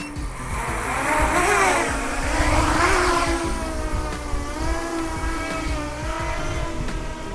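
FPV drone flying in altitude hold mode under Betaflight, its motors giving a continuous whining buzz whose pitch sweeps up and down with throttle changes, steady and fairly close throughout with no talking.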